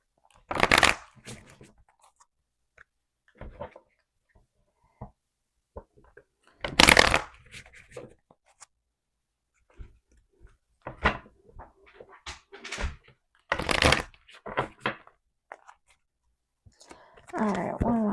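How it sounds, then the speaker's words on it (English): Tarot cards being shuffled by hand in short bursts of riffling and flicking, with quiet gaps between each pass; a riffle near the end is followed by a burst of soft speech. "All right, one last shuffle."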